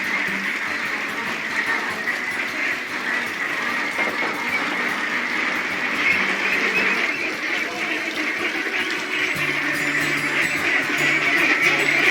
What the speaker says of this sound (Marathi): हे दोन महिन्याचे बदक पिल्लू आहे तुम्ही बघू शकता